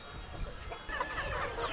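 Free-range farm chickens roaming a hillside cluck in scattered, overlapping calls, several birds at close to middle distance, with the clucking growing busier partway through over a low background murmur.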